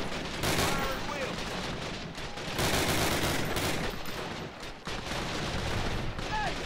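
Sustained gunfire and rattling automatic weapons from the World War II shooter Call of Duty: United Offensive, loud and dense throughout, with scattered shouted voices in the mix.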